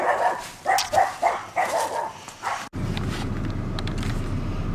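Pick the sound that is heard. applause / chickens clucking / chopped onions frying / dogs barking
dogs barking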